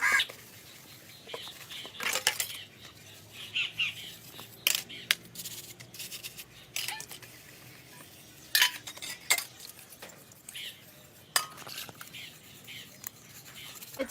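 Dishes, pots and cutlery being washed by hand in a home kitchen, with intermittent clinks and clatters of metal and crockery against faint running water, some sounds sharp and near.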